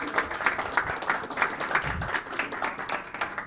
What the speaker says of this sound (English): Let's give Morgan a big round of applause.